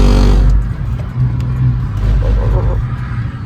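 A car engine on a race circuit gives a loud rev at first, then drops to a rumbling, fluctuating drone as the throttle is worked, close and continuous.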